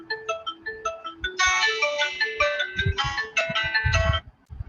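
An incoming call sets off a phone ringtone, a cheerful electronic melody of repeated notes that swells into a fuller, louder tune with thumping low beats before cutting off.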